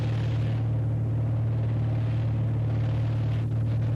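Inside a single-engine propeller plane in flight, the engine drones loudly and without a break, a constant low hum with a steady pitch that fills the whole cabin.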